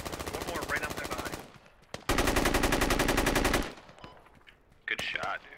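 Automatic weapon fire in the tactical shooter Squad: a sustained burst of rapid shots, then a second, louder and longer stream of gunfire up close, with quieter shots and bits of action around it.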